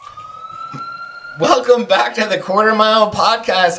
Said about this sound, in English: I don't know if you can hear the ambulance sirens in the background or not.